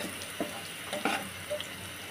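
Chopped garlic and green chilli sizzle and crackle in hot oil for spicy noodles, a steady close frying hiss with a few sharper stirring scrapes and pops.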